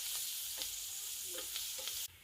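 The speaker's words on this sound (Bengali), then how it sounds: "এবার এতে দিয়ে দিব পেঁয়াজ কুচি এবং ভালোভাবে ভেজে নিব।" Chopped onions frying in hot oil with two or three dried chillies, a steady close sizzle with occasional stirring scrapes, continuous and without talk until it cuts off near the end.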